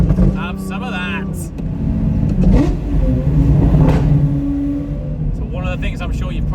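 A car's engine drones and revs steadily while driving on a road, loud and close from inside the cabin, with people talking over it.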